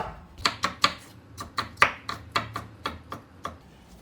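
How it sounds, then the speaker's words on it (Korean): A knife cuts zucchini into medium julienne strips on a cutting board, sharp close chops in an uneven rhythm, about a dozen strikes with short gaps. "이렇게 살짝 씹히는 맛이 있어야 되니까 그냥 중간 정도 채로 썰어주세요"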